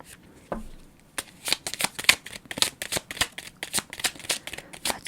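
Tarot cards being shuffled and drawn, a dense run of crisp riffling flicks and soft slaps that pick up in pace and stay close and clear, with no talking.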